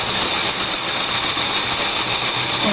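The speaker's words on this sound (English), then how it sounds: "Make sure you give it a good punch for the beginning of the shake roll." A tambourine shake roll gives a loud, continuous, even shimmer of jingles, held steadily and close for a few seconds with no voice.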